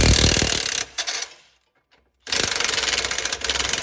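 A power tool, likely an impact wrench, rattles against the bottom shock mount bolt on an S197 Mustang GT: a loud, close buzzing burst, a short stutter, a silent pause of about a second, then another sustained hammering run.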